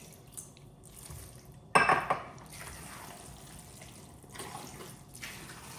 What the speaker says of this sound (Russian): Еще добавляем воды.